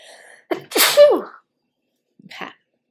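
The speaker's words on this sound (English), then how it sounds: "I have to sneeze." A woman gives one loud, close sneeze with a sharp intake before it, followed by a brief quiet sound after a pause.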